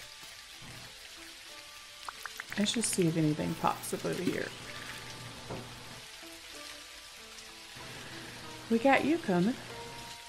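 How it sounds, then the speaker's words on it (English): Steady rain pours in the farming video game Dinkum, a constant hiss of raindrops on surfaces running through the whole scene while someone talks over it in bursts. "it's pouring out rain right now"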